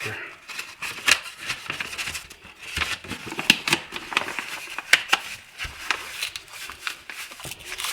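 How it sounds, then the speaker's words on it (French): Paper crinkles and rustles in irregular bursts as a Kriss Vector replica gun barrel is wrapped, close to the listener, with a person talking throughout. "je vais utiliser du papier pour pouvoir envelopper mon canon"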